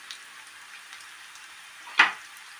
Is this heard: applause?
no